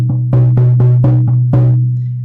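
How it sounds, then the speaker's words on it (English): Hand drum struck in a slow, steady meditative beat, six or seven resonant booming hits over a sustained low hum, close and loud with no voices. "the drum is going to sound like this"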